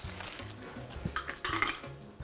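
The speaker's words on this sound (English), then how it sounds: "and some more crushed ice." Crushed ice tumbling into a cocktail glass after soda water, a few clinking, rattling bursts close by, quiet and short with no talk.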